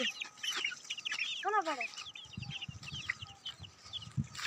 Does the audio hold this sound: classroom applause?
no